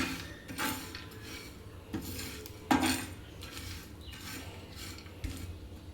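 Hot chili rasam is stirred in a pot, with repeated scraping and clinking of a utensil against the vessel in an uneven rhythm, close and moderately loud, without speech.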